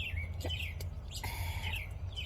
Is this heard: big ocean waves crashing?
no